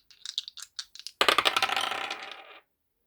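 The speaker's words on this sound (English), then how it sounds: "I'm going to roll this dice. I'll roll it two or three times." Dice rattle and clatter across a hard surface, a few light taps followed by a dense, close burst of tumbling clicks that fades out as they settle.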